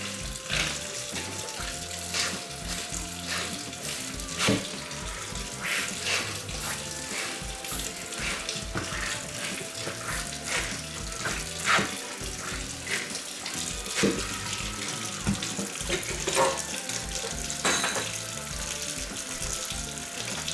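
Water pours steadily from a faucet into a clogged kitchen sink with dish soap, a continuous close splashing rush with irregular gurgles and spatters throughout.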